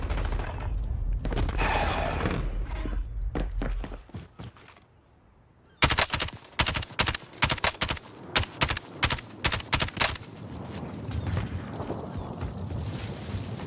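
Video game gunfire comes in rapid bursts of sharp cracks, loud and close, after a windy rumbling stretch and a brief lull.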